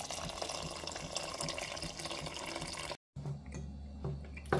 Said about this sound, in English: I'm gonna go ahead now and wash some rice